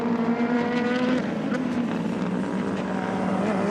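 DTM touring cars racing at the Lausitzring in 2019, including a BMW, roar in a dense, steady engine drone with a gear change near the start, loud and continuous with no pause.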